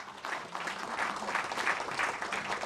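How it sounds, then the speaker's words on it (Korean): An audience at a Democratic Party floor leader election speech claps together in a sustained, fairly loud round of applause that swells and holds without pause. "우리 크게 다시 한번 박수 부탁드립니다."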